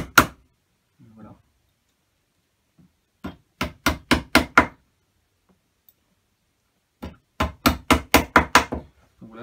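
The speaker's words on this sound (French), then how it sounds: "les coups de marteau, ça a tendance un peu à décoller les fauteuils" Hammer blows while webbing an antique seat: two quick bursts of about six sharp, evenly spaced strikes each, separated by near silence, with a faint murmur of voice at the start.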